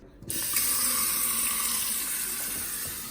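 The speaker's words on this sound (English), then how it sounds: "Let's run some water through it first and see." Water gushes steadily from a tap into a kitchen sink and through a Waste King L-8000 garbage disposal drain with a bad leak, a loud continuous rush that starts abruptly and holds without pause.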